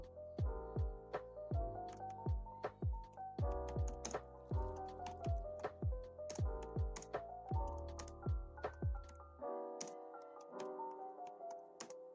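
Typing on a computer keyboard while filling in a Facebook page bio: irregular bursts of crisp, close key clicks across the whole stretch, alone with no voices.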